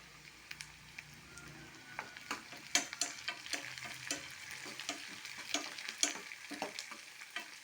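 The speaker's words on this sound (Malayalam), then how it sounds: "ഇനി കുറച്ച് കരിയാപ്പില ഇട്ട് കൊടുക്കാം." Curry leaves crackle and sizzle in hot oil for tomato chutney, with a steady frying hiss broken by irregular sharp pops and the scrape of stirring, close and fairly quiet.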